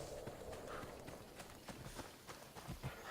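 A horse gallops in Assassin's Creed Odyssey, with steady rapid hoofbeats clip-clopping over the game's ambient background at a moderate level throughout.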